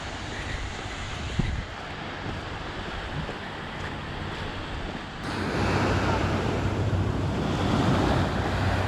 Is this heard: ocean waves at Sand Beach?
yes